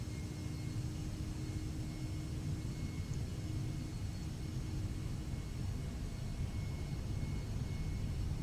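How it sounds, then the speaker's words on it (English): MD-11 jet engines spooling at takeoff thrust in the X-Plane 12 flight simulator, a steady, broad low roar with a faint hum, continuous and even for the whole stretch, no voices. "we can push the throttles a bit. And then that will put it to the required toga thrust"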